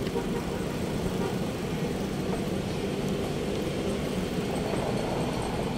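A queue of vehicles on a road heading toward a crowded eatery makes a steady, dense traffic rumble with continuous engine noise, even and moderately loud throughout with no clear talk.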